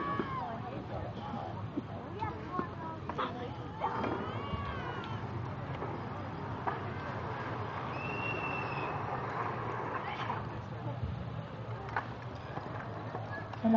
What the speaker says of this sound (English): nice team of Percheron horses